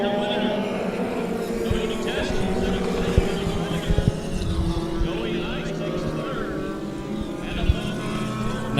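HPD Midget race cars roar together at the start of a heat race at a bullring oval, engines droning loud and continuous with a commentator talking over them.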